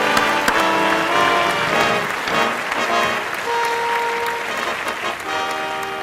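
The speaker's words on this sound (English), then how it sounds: "A nice round of applause." A round of applause fills the hall at a Veteran of the Year ceremony, dense and loud from the audience and sustained for six seconds with faint tonal sounds beneath.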